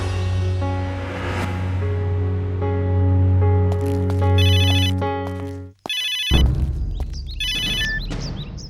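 A phone rings with an incoming call in a Hindi television crime drama. The loud melodic ringtone repeats for several seconds, breaks off briefly, then chimes on with a few electronic beeps.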